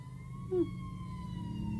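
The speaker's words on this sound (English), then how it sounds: "Oh no, I hear the ambulance." A faint, distant ambulance siren wails steadily outside in the background behind a low hum, with a brief nearby vocal sound partway through.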